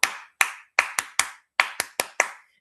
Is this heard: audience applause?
yes